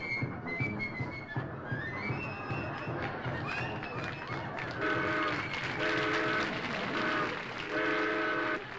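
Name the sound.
train sound effect with horn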